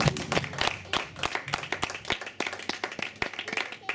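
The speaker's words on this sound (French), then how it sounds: "Est-ce que tu peux acclamer pour la gloire de Dieu?" A church congregation claps and cheers in praise, dense rhythmic hand claps filling the room, with a few voices calling out beneath the applause.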